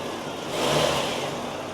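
A Lexus engine runs steadily while the car is shifted into reverse during a motor mount check, a close, even mid-pitched hum that swells slightly midway.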